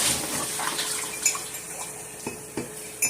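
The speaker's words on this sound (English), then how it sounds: "We're doing dishes." Water runs steadily into a kitchen sink during dishwashing, a soft continuous hiss broken by a few light clinks and knocks of dishes, with no talking.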